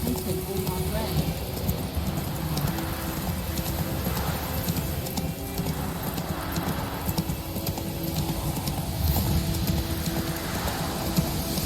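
Roach the horse gallops in The Witcher 3, hooves clip-clopping in a steady rhythm with an occasional whinny, under game dialogue and voices.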